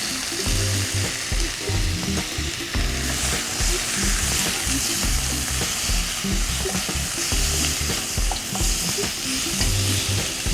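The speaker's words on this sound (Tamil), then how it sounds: "சிக்கன் ஓரளவு வதங்கி இதோட இந்த இஞ்சி பூண்டு பேஸ்ட்டோட வதங்கி ஃப்ளேவர்லாம் இறங்கிடுச்சு." Chicken sizzles steadily in a pan with ginger garlic paste and turmeric, a continuous close frying hiss with stirring scrapes throughout and no talking.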